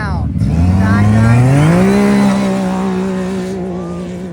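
An off-road desert race vehicle launches at a Vegas to Reno qualifying start, its engine note climbing loudly as it accelerates close by, then holding a high steady drone while an announcer talks over it.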